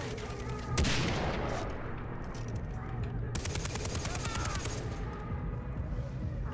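Gunfire in the video game Far Cry 3: one sharp, loud shot, then a long stretch of rapid automatic fire rattling over a dense, constant wash of game noise.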